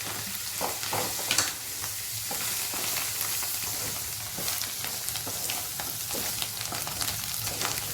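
Mutton curry sizzling in a pan as coriander powder and fresh coriander leaves are stirred through, with steady frying hiss and repeated scraping strokes of a spoon, close and fairly loud with no talk.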